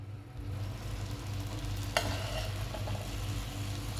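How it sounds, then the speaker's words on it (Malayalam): Soaked rice frying for Kashmiri pulao, a soft steady sizzle in the pan over a low background hum, with one sharp clink of a utensil midway and light stirring afterward. "ഇനി നമ്മൾ ഈ റൈസ് കുറച്ച് നേരം ഫ്രൈ ചെയ്യാൻ വെക്കാണ്"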